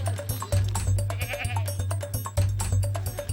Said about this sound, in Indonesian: Ini semua adalah kambing-kambing peranakan Etawa yang memang sangat terkenal dengan susunya yang kaya akan nutrisi.